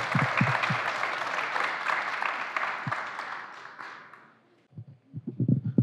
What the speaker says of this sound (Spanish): Les damos un fuerte aplauso aquí a estos novios que están a punto de casarse